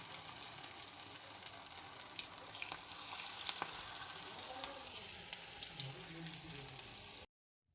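Coriander leaf fritters sizzle in hot oil as they crisp up, a continuous, even frying hiss with light bubbling that runs steadily and then cuts off abruptly.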